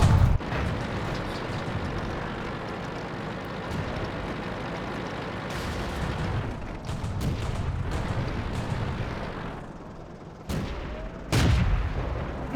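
Tank cannon shots in World of Tanks, in a match with the French Char D1 tank, boom out as several heavy blasts spread across a rumbling battle scene, with two sharp loud reports near the end.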